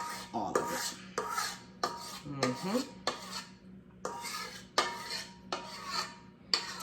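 Spatula or spoon scraping chocolate cake batter from a mixing bowl, a series of close, repeated scrapes and clinks of utensil on bowl in short bursts, with no talk.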